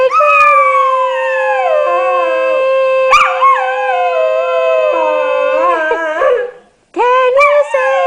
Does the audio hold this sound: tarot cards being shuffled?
no